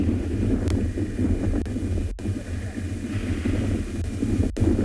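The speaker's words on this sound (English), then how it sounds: "just like yesterday, the wind is quite strong" Strong wind on an afternoon safari drive in the South African bush, a steady low rumble of wind buffeting the microphone, constant and fairly loud, with a couple of sharp clicks.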